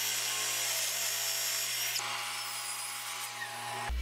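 Power drill boring pocket screw holes into wood through a pocket-hole jig for a custom wooden headboard, a steady loud whining drone that briefly dips and restarts midway, close up with no talking.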